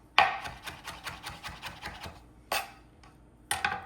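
Knife chopping fresh thyme on a board, a rapid run of close, crisp taps for about two seconds, then two short separate bursts of chopping.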